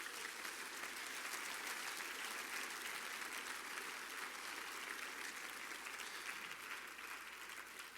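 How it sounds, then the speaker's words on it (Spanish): A church congregation applauds in praise during a sermon, a continuous, even wash of many hands clapping, distant and fairly faint, sustained without pause throughout. "Dale un aplauso de gloria a Jesucristo."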